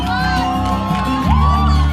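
A newsroom crowd at a Women's Day celebration cheers and shouts, with many voices overlapping in a loud, continuous roar that swells further about halfway through.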